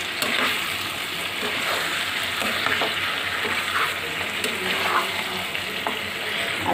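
Marinated chicken frying in hot oil with garam masala and lightly browned papaya, giving a close, steady sizzle and crackle throughout with occasional scrapes and clinks of stirring.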